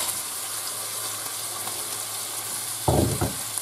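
Sepia cuttlefish, tomato, red and green peppers, garlic and onion sautéing in a pan, a constant close sizzle with two brief clattering stirs near the end.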